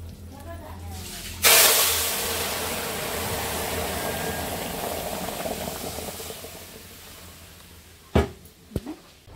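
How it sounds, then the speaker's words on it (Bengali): Rice boiling in a pot in a home kitchen: a sudden loud burst of hissing steam that slowly fades into steady bubbling, followed near the end by a few sharp clanks. "এদিকে ভাত ফুটছে।"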